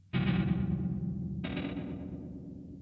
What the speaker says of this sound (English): Alright, this is the reverb by itself.